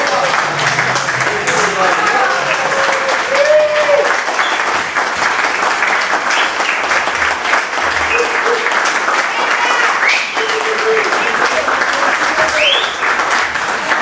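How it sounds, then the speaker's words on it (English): Rotary club members at a meeting give a member a long, loud, sustained round of applause, mixed with cheering voices and scattered whoops throughout. "So I think we all need to give Matt a big round of applause"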